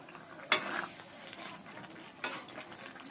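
Fried potatoes stirred and sautéed together with chicken in a pan, two sharp scrapes of the spatula against the metal standing out over a soft, steady background of low sizzling; no talking.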